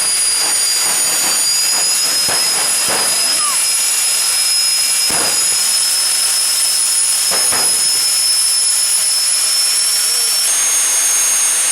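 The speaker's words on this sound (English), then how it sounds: "they also had a fire and smoke show with a couple of jet-powered" Jet-powered dragsters run a fire and smoke show at a drag race, giving a continuous high-pitched turbine whine over a loud, steady hissing roar, with a few sharp bursts and pops scattered through.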